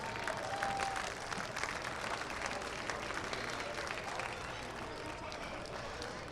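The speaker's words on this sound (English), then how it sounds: "Let's have one last round of applause" A softball awards ceremony crowd gives a sustained round of applause, dense, even clapping that carries on at a steady level from start to finish.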